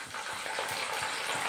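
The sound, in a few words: salt water being poured into dal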